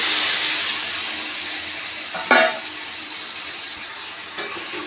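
Chicken pieces dropped into a pan of spice masala with turmeric, salt and chopped tomato, a soft steady sizzle with a sharp burst of frying as the chicken goes in and a smaller flare a moment later.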